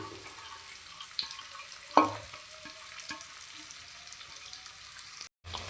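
Onion, ginger, green chili and garlic fry in a pan, giving a steady, close sizzle with light stirring clicks and one sharper burst of crackle early on. No one speaks.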